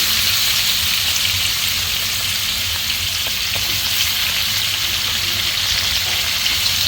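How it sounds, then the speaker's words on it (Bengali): Curry leaves frying in soybean oil in a pan for a fish masala, giving a steady, loud, even sizzle that continues throughout with no voices. "আর সয়াবিন তেলের মধ্যে এগুলো দিয়ে একটু নেড়ে চেড়ে নিব।"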